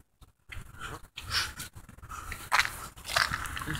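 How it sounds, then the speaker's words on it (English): A dog pants close by in a cold, wet Central Park, with quick rhythmic breaths, snuffles and bursts of heavy huffing between brief pauses. "Well, it's a dog, right?"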